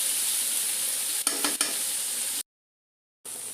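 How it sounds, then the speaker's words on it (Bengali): Dried loitta fish frying with onions in a pan: a steady, close sizzle with a few stirring scrapes, cut off by a brief silence before the sizzle returns. "আমি ভালো করে পেঁয়াজের সাথে শুটকিটা সুন্দর করে একটু ভেজে নেব।"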